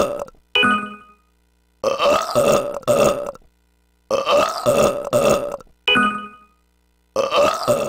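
Cartoonish burps from video game characters, loud and close, coming in repeated bursts of several belches separated by short silences.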